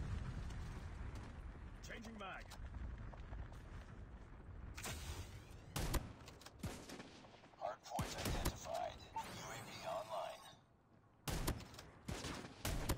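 Shotgun fire in the mobile shooter Call of Duty Mobile comes as sharp, loud blasts in scattered bursts, mixed with game effects and a voice talking over the action.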